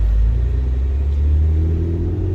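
Raspy exhaust note from a car fitted with PPE catless downpipes, a loud steady low rumble that holds at an even level throughout, with no talking over it.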